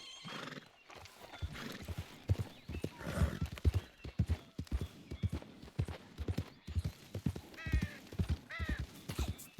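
Video game horse hooves clip-clop in a steady rhythm in Red Dead Redemption 2 while the horse whinnies a couple of times, with a voice talking over much of it.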